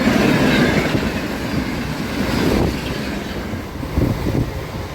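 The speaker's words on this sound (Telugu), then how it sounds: "సికింద్రాబాద్ సిర్పూర్ కాగజ్ నగర్ ఇంటర్సిటీ" The Secunderabad–Sirpur Kagaznagar Intercity train rushes past nearby, a loud steady rumble of wheels on rails with rhythmic clacking and wind buffeting the microphone, easing slightly as it goes by.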